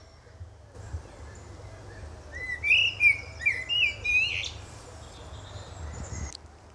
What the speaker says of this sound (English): this country spot with just a bird song